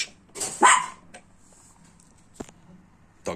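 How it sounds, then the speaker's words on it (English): A dog barks several times indoors, two close, loud barks near the start and a few sharper single barks later, with quiet room noise in between. "just had to get rid of the dogs barking"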